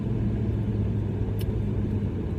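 The 3.5 liter V6 of a 2016 Lexus RC350 AWD F-Sport sends a low, steady engine rumble from inside the car as it accelerates, with a brief high click midway.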